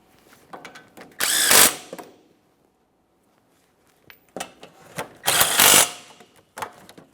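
A ratchet tightening bolts on the brake dust shield of a 2014-2019 Toyota Corolla, in loud bursts of rapid clicking, two separated by a pause, with smaller clicks between.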